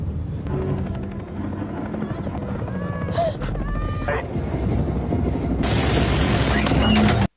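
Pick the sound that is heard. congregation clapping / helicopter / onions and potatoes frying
helicopter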